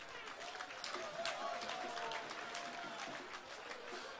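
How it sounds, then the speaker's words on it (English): Crowd clapping at an APC empowerment rally in Nnewi, Anambra, a steady wash of many hands with some crowd noise underneath, fairly distant and moderately loud for about four seconds. "I want you to clap for yourselves."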